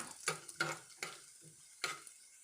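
Whole spices and seeds frying in hot oil for chicken dum biryani, with four distinct stirring scrapes over a steady low sizzle, close and fairly quiet, no talk.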